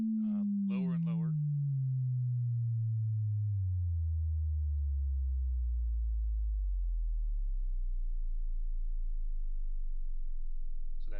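A pure sine test tone glides smoothly and steadily downward toward very low pitch, fading into a deep hum; a brief voice is heard at the start.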